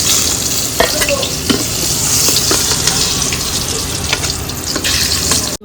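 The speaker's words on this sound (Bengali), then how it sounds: "এগুলো খুব সুন্দর করে ভাজা হয়ে গেছে সুন্দর একটা লাল লাল কালার এসে গেছে" Slices of pointed gourd fry in hot oil, giving a loud, steady sizzle broken by scraping and clinking as they are stirred in the pan.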